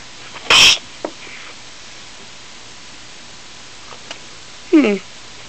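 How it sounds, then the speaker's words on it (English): Two sharp sneezes, one early and one near the end, are separated by a quiet stretch holding a few faint clicks and small vocal noises. "Achoo! Achoo! Achoo! Achoo!"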